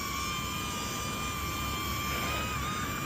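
A small GPS camera drone, either a DJI Neo or a HoverAir X1, flies close by with a steady, loud whirring whine of its propellers. The pitch holds even throughout and no one speaks.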